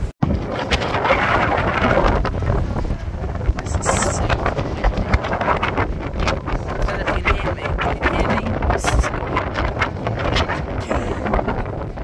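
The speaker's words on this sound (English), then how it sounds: "Oh, it's ever so windy up here." Strong wind blasts across a rooftop high on a building in Amsterdam, roaring and buffeting loudly against the microphone throughout, with brief faint voices mixed in.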